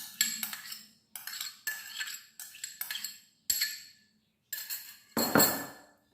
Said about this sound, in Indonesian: Lalu kita aduk sampai semuanya tercampur merata.